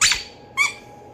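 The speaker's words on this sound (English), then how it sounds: "Did you just squeak?" A short high squeak sounds twice, once at the start and once just after half a second, each brief and sharp against a quiet background.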